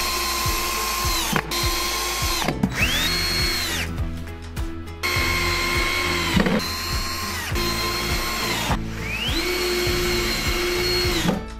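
A power screwdriver drives self-tapping screws into a bed's footboard during assembly: repeated whirring runs that rise in pitch as the motor spins up, each ending in a short halt, with clicks between runs.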